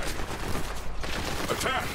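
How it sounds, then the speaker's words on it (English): Gunfire and explosions from the Borderlands 3 video game, a dense, rapid burst of shots and blasts under a busy mix of game sound, with brief voices in the background. "Ah, explosions, Torg!"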